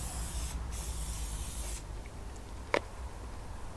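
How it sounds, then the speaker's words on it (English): Cooking oil sprayed onto a hot steel plate of an Adventure Kings portable fire pit, heated to about 249 degrees, gives a close aerosol hiss in two short bursts followed by a faint sizzle and a brief sharp click. "spraying oil on the fire, because there's no actual flame, it's not blowing up"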